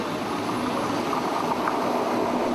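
Steady, continuous rumble and rushing noise inside a moving train in Switzerland, heading toward the town of Ilanz near the Vorderrhein; loud and even throughout, with no voices.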